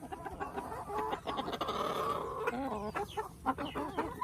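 Chickens cluck and chatter close by at a farm, a steady flurry of overlapping clucks and short calls at moderate volume, with no talking.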